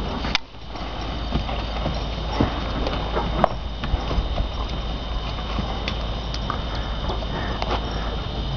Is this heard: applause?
no